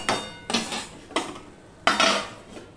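A lid set on a cooking pan (a kadai) over a vegetable dish: four sharp metallic clanks spaced roughly half a second to a second apart, each ringing briefly before fading. No one speaks.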